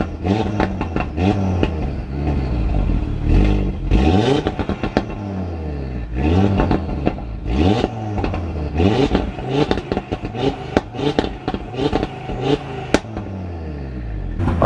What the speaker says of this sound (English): let's get a couple of static rev shots.